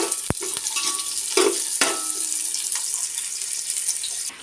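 Onions frying in ghee for a Sunday special biryani, a steady close sizzle with a few sharp clacks and scrapes of a utensil stirring the pan near the start.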